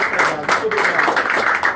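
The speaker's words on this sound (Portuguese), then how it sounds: "Uma salva de palmas aos autores do livro." An audience at a book launch in São Pedro da Aldeia claps for the authors, a brief burst of close, dense applause with voices mixed in.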